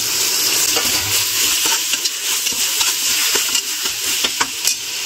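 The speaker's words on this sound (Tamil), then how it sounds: "இப்போ தக்காளி சேர்த்துடுறேன்." Chopped tomatoes fry with onions in a hot pan, a loud continuous sizzle and hiss broken by intermittent stirring scrapes and clicks.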